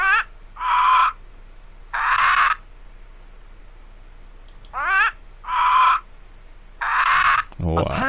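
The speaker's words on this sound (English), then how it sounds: "Wow. A parrot." A parrot call from the Dora the Explorer: Click & Create PC game sounds as a series of loud, squawking calls in two groups of three, close and clear, with quiet gaps between them.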